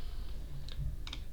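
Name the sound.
typing on a computer keyboard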